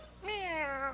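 A voice imitates a cat with a single drawn-out, rising then falling meow, clear and close, lasting under a second.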